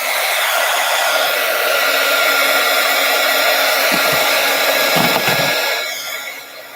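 A handheld dryer blows steadily and loudly near the microphone as it dries paper during a craft project, keeping an even roar that fades slightly at the end.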